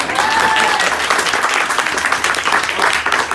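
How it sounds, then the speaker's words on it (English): Loud, sustained round of applause for parents at an end-of-year coach's gathering, dense clapping filling the room without a break. "Yeah, you got a round of applause."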